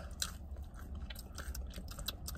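Close, wet chewing and crunching of pizza-restaurant food, including chicken, with irregular bites and mouth sounds over soft room murmur, no talking.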